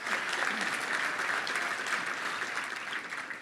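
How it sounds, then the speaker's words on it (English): Many hands clap at a Little Rock Touchdown Club luncheon to greet the state's Attorney General, a sustained, even round of applause filling a few seconds without speech. "let's give him a round of applause"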